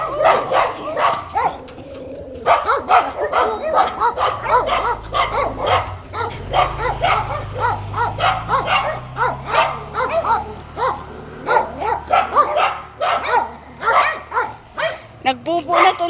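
A dog barks and yips excitedly in short repeated bursts during an outdoor walk, close and loud, while people talk throughout.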